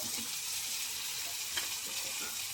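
Brinjal pieces, with tomatoes to follow, fry steadily in a pan, giving a continuous, even sizzle with a faint clink near the middle and no talking.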